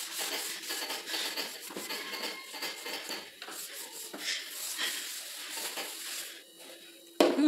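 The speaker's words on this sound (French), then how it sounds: "nettoyer tête frigidaire Timon." Someone rubs and wipes the top of a refrigerator, producing steady close scrubbing and rasping with brief pauses and a sharper knock at the end.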